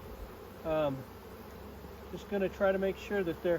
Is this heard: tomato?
no